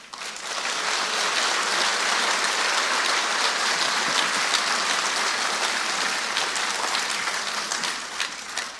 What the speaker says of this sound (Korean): 강사님 나오실 때에 크게 박수로서 환영해 주시기 바랍니다